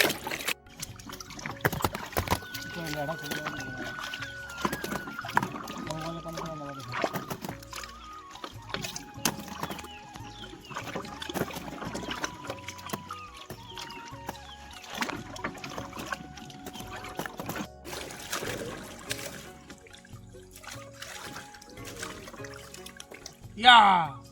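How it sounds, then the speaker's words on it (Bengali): Carrots are rinsed and swished in water at the edge of a village pond, with soft splashes and trickles recurring under music and a voice talking throughout. "পুকুর পাড়ে গাজর ধোয়ার প্রক্রিয়া চলছে।"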